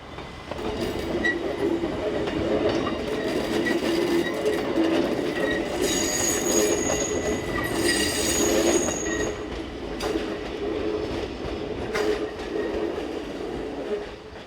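A train runs along the rails with a steady, loud rumble, wheels squealing and clattering rhythmically as it passes; no talking.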